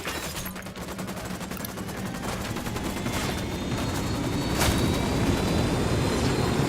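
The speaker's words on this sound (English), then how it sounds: "I'm shooting these fuckers." Dense, continuous gunfire from the shooter game Ghost Recon Wildlands, a steady roaring rattle of rapid shots that grows slightly louder toward the end, with no voices over it.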